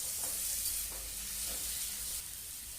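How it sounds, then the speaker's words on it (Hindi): Boiled green banana being stirred and mixed with salt in a hot pan for a banana bharta, producing a soft continuous sizzle with scraping stir strokes at a moderate level, no talking. "टेस्ट के अनुसार नमक डालेंगे और अच्छी तरह से मिक्स कर लेंगे।"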